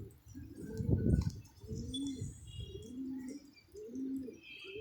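Pigeons coo in soft, rhythmic low rolls, several repeated calls close by, with faint chirps and background noise behind them.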